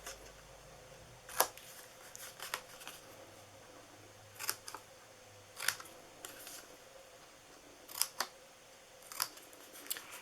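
Scissors snip into the score marks of a paper gift card box, giving a series of short, crisp cuts spaced irregularly through a quiet room, some in quick pairs.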